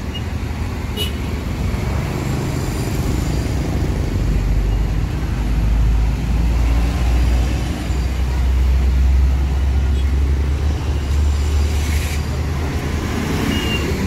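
A Rosalia Indah intercity bus on the road, with a steady, loud low engine drone and road rumble heard from inside the cabin throughout, and no clear voices.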